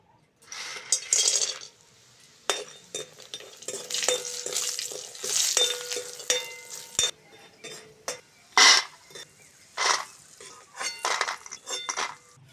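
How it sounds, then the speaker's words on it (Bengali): Lentil dumplings (bori) frying in a little oil in a pan, with a soft sizzle beneath repeated sharp clinks and scrapes of a metal spatula stirring them, close and intermittent. "প্রথমেই অল্প করে তেল দিয়ে বড়িগুলো ভেজে নেব।"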